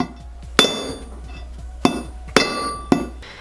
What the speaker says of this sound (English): we're going to try and beat it with a hammer